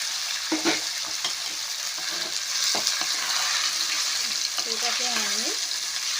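Chicken pieces fry in hot oil with a steady broadband sizzle, joined by occasional stirring clatters and a short bit of talk near the start.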